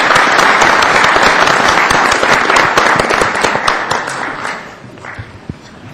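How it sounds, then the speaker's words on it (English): Audience applause for school board members at an election forum, a dense wash of many hands clapping that holds strong for several seconds, then thins and fades toward the end. "let's have a round of applause for these school board members"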